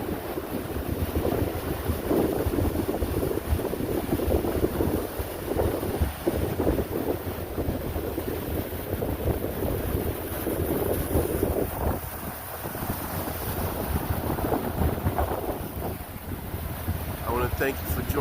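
Ocean waves break and wash continuously along a beach while wind gusts over the microphone, a dense steady roar with surging swells throughout and a voice speaking intermittently beneath it.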